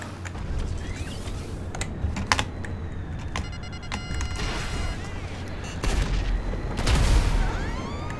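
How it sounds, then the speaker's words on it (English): Missiles firing and exploding in GTA 5 Online, with a run of clicking, rapid impacts, a sharp blast and deep booming explosions that swell near the end, loud and close, alongside faint voices. "Missiles!"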